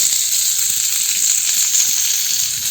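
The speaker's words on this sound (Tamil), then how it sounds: "போட்டுட்டு வெங்காயம் போட்டு வதக்க போகிறேன்." Onions sautéing in oil in a pan for vegetable dosa, giving a loud, steady close-up sizzle with a bright hiss throughout and no talking.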